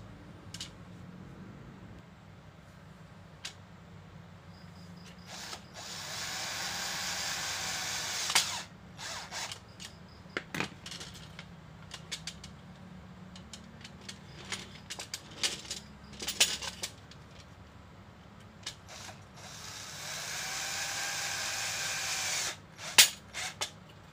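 Parts of a DC roller rack screwed together, with quiet clicking and ratcheting turns, a few sharp taps, and two longer bursts of buzzing driver whir, close and sporadic with pauses between.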